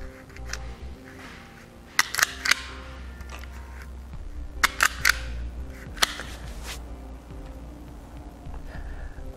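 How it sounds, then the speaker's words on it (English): Wire strippers clamp and tear insulation off trailer wiring being prepared for a new RoadMaster 6-wire connector on a 2018 GMC Acadia, giving a few sharp snapping clicks over a steady low hum. "now we're going to strip this insulation back, that way we can connect it to our new socket."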